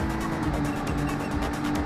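A blue BMW-like car in the Midnight Club 2 video game, a steady loud engine drone with a whiny, vacuum-cleaner-like tone and pulsing road noise, no talking.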